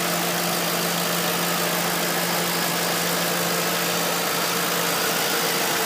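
A well-maintained 4.6 V8 engine idling, a loud, steady, close drone with an even low hum and no change in pitch.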